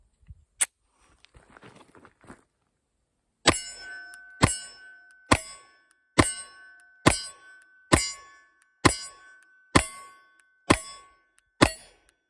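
A Sig Sauer P365 fires a magazine of Federal HST hollow points, about ten sharp, loud shots at a steady, slightly uneven pace of roughly one per second, each with a short ringing tail, after quieter handling noises.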